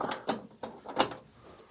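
Metallic ratcheting and clicking as bolts are driven into aftermarket rocker panels on a Chevrolet C10 truck, several short close bursts with a quiet gap between them.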